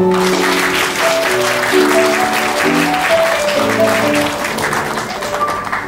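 Guests at a wedding ceremony in a Seoul penthouse venue break into loud, sustained applause, close and dense, mixed with faint tones of background music.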